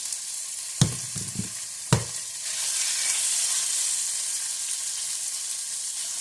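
Rosemary, thyme and vegetables fry in a hot pan with a steady, close sizzle. A few sharp knocks of utensils sound at the start, then the crackling swells and holds.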